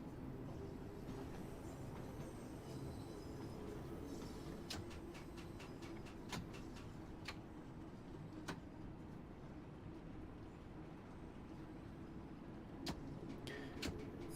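Caltrain locomotive running in Train Sim World 2, a low, steady rumble with occasional sharp ticks and clicks over the track, fairly quiet and with no talk.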